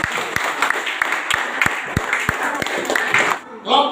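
Classroom group applause for a presenting student group, dense clapping over a steady rhythmic beat of sharp thumps, ending abruptly before a voice starts speaking.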